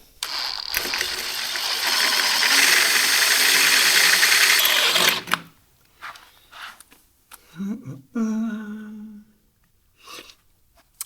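A drill bores through a steel tow hitch bar for a BMW G650GS motorcycle, a loud sustained grinding whine for about five seconds, then stops, followed by scattered clanks and handling noises and a brief rising tone.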